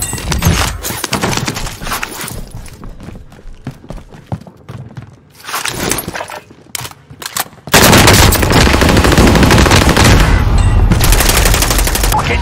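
Call of Duty Warzone firefight on Rebirth Island: heavy machine-gun fire and gunshots rattle close and loud, sparse at first, then a dense continuous barrage takes over for the last few seconds.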